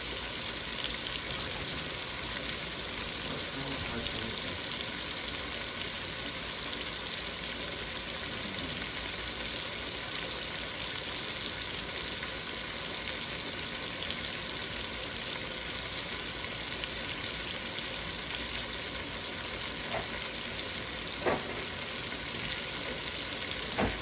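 Chicken leg quarters sizzle steadily in a hot sauté pan, a continuous close-up frying hiss that runs the whole time with no one talking.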